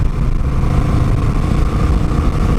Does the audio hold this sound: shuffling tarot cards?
no